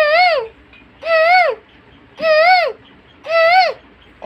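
A person imitates a koel's call with four loud, close, rising whistled hoots, evenly spaced about a second apart.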